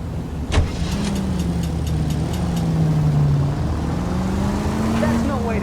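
Car engine in L.A. Noire droning steadily as it drives, with the pitch slowly dipping and rising through gear changes, a sharp knock near the start and a faint chiming ticks above.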